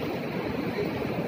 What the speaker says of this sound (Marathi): 2 दिवसात तलावातनं पाणी खूप गतीनं 4 ते 5 फूट उंचीनं पाणी पसारा धरून चालू आहे